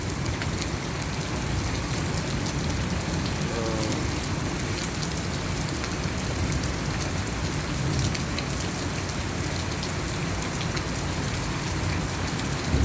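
Steady rain pours down without a break, a dense, even hiss of drops hitting surfaces, loud and close throughout with no voices.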